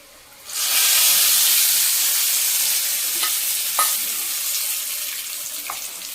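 Hot tempering poured into tomato chutney for idli bursts into a loud, close sizzle that starts abruptly, then settles into a steady hiss that slowly fades, with a few small pops and clinks.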